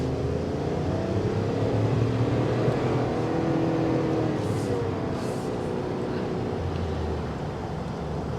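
A 2023 Chevrolet Suburban Premium accelerating on the road, a steady low exhaust drone and engine rumble heard from inside the cabin, continuous and moderately loud with no talking.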